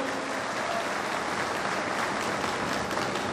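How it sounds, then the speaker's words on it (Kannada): Sustained applause from a public gathering audience honouring Santosh Lad, a dense, even roar of many hands clapping that holds at a constant level throughout. "ಸ್ವಲ್ಪ ಎಲ್ಲರೂ ಜೋರಾಗಿ ಚಪ್ಪಾಳೆ ತಟ್ಟಿ ಅವರಿಗೆ ಅಭಿನಂದನೆ ಸಲ್ಲಿಸಿ"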